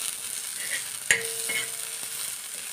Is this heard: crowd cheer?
no